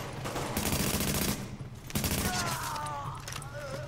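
Rapid automatic gunfire fills the co-op shooter Tom Clancy's The Division at Madison Square Garden, dense sustained bursts with a brief lull midway before firing resumes loud and close.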